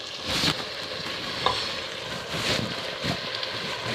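Chopped onions and carrots fry in a pan, giving a steady close sizzle with occasional soft stirring scrapes and faint clatter, no voices over it.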